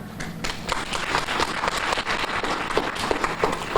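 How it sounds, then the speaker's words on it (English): Conference audience claps in a steady, moderately loud round of applause, many hands overlapping with scattered sharper claps throughout. "please give yourselves a round of applause for that effort"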